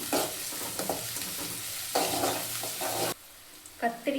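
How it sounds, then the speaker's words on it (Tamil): Onions, curry leaves and green chillies sauté in a pan for karuvattu kulambu, giving a continuous close sizzle with repeated scraping stirs that thin out into a quieter crackle toward the end. "அது வரைக்கும் நல்லா வதக்கிக்கலாம்."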